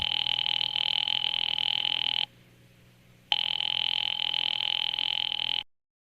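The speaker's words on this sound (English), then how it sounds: "Ringing the police department" An old-fashioned telephone rings on a call to the police, two long electric bell rings separated by a short pause, loud and close with no voices.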